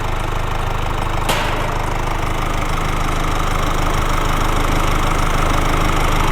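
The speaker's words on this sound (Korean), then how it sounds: "엔진 소리 일정합니다" A Mercedes-Benz CLS300d (C257) diesel engine idles steadily throughout, a low even rumble with a constant mechanical hum and no talking.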